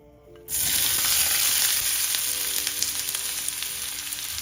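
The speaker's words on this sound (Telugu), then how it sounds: "బాండీలో 1 టేబుల్ స్పూన్ ఆయిల్ వేసుకొని ఆయిల్ హీట్ అయ్యాక తరిగి పెట్టుకున్న ఆనియన్స్," Chopped onions drop into a pan of hot oil and break into a loud, steady sizzle. The frying starts abruptly after a short quiet moment and keeps crackling evenly until the end.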